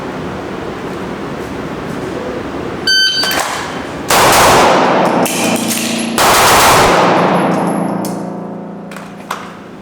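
Pistol shots ring out during a F.A.S.T. shooting drill rep on a range, a quick string of sharp cracks followed by two long, loud bursts of blasts with trailing ringing echoes.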